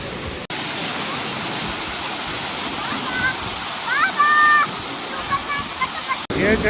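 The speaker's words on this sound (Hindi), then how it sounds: "मंथोका वाटरफॉल पे पहुंच चुका हूँ। काफ़ी पानी ऊपर आ रहा है" Manthoka Waterfall in northern Pakistan roars in a steady, loud broadband rush of heavy falling water that fills the whole clip, with a few brief higher tones and sounds poking through the constant wash.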